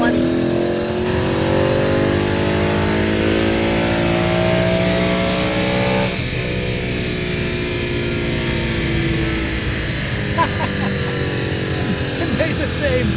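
A 2018 Mustang fitted with a cold air intake pulls hard in fourth gear, its engine note rising steadily and droning loudly through an open window.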